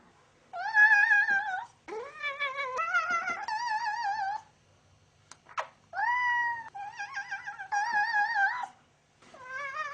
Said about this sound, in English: A similar technique is used for a new form of artistic expression: cat yodeling.